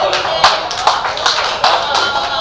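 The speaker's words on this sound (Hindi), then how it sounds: "इतनी कमजोर तालियों में मैं कविता नहीं पढ़ता" At a poetry recital, a thin, scattered patter of audience clapping comes in uneven bursts, with a voice murmuring underneath.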